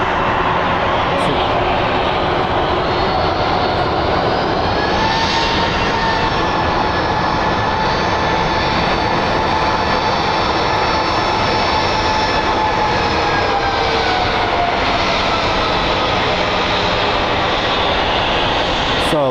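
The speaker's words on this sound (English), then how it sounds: "our last plane of the day is going to be a UPS Airlines 767-300 series" An 11-year-old UPS Airlines Boeing 767-300 departs, giving a loud, continuous jet engine roar with a steady drone and slowly shifting tones for the whole stretch.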